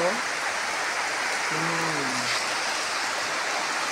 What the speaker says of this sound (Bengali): অনেক বৃষ্টি নেমে গেল জোরে, এই যে খুব জোরে বৃষ্টি নামলো